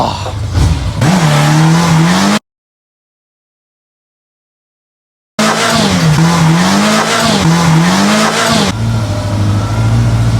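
A budget project motorcycle on a rotten, grippy rear tire revs hard in a burnout attempt, with loud close engine roar and a brief tire squeal, broken by a silent gap before a second surge and a settling idle.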